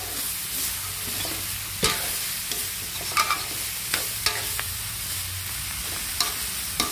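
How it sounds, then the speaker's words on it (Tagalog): Meat and bottle gourd stirred in a hot pan, a steady soft sizzle with scraping spatula strokes and a few sharper clinks against the pan, close and continuous with no talking. "Haluin natin ng maigi para yung lasa ng karne didikit agad sa upo."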